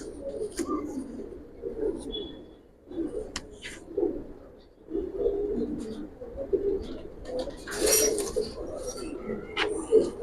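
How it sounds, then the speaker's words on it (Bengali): Giribaz pigeons coo in soft repeated bursts close by, with scattered clinks and faint background sounds in between. "অনেক সুন্দর কবুতর"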